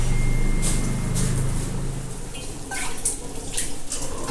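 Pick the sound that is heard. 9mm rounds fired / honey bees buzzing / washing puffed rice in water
washing puffed rice in water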